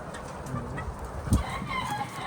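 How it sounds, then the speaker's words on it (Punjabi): A short burst of chicken clucking on a farm, with a rooster sound close by and a sharp low thump midway, over faint background noise. "ਮਾਸ਼ਾਅੱਲਾ ਕੁੱਕੜ ਚੈੱਕ ਕਰੋ ਜੀ,"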